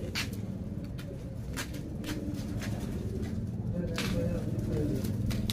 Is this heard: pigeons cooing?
yes